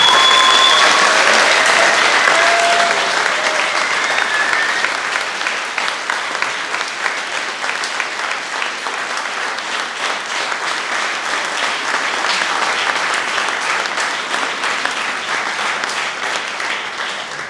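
Concert audience applauding a choir at a summer concert in Domžale, a sustained loud wash of clapping that fills the hall and slowly eases off, with no talk over it.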